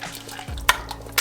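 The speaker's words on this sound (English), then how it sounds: "you just want to stir it up really well, make sure everything's nicely mixed" A spoon works through a pot of vegetable stew thick with corn and barley, giving soft scraping and a couple of quick clinks against the pot in a brief, fairly quiet stir.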